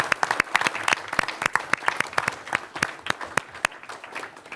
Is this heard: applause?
yes